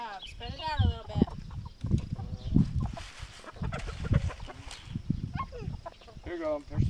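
Chickens cluck and chatter close by while pecking at freshly spread chicken feed on a farm, their calls rising and falling in short bursts with people talking over them.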